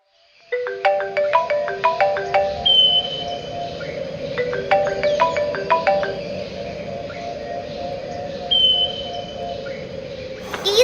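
A mobile phone ringtone plays loud and close, a bright repeating electronic melody in phrases of rising and falling notes, sounding alone.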